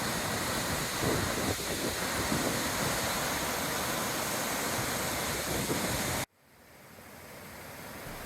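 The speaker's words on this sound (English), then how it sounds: "Inglis Falls, created where the Sydenham River plunges over the escarpment, is one of the spring highlights." Steady, dense roar of Inglis Falls, where the Sydenham River plunges over an escarpment in spring, broadband and constant, which cuts off abruptly near the end leaving a quieter rushing hiss.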